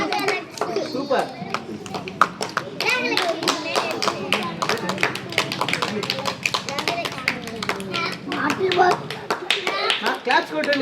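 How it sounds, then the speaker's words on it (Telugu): Children clap together at a primary school Independence Day prize ceremony, a dense, steady run of close, sharp claps lasting throughout, with chatter and a voice mixed in underneath. "క్లాప్స్ కొట్టండి"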